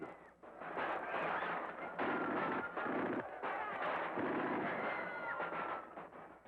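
Gunfire from street fighting in Paris in 1944 comes through as repeated dull bangs and bursts in a steady series on old, muffled newsreel sound, fairly loud and without speech.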